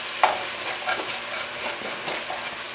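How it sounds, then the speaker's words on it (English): A spoon stirs stewed chicken with rice and a little brine in a pot, giving a run of soft scraping, sloshing strokes with light sizzling and popping underneath, fairly close and steady with no talk. "Give it a stir."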